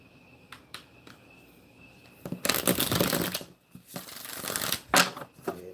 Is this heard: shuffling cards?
yes